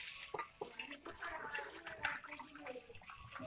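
Pabda and katla fish being rinsed under running water, with a steady wash of splashing and trickling close by and faint voices in the background.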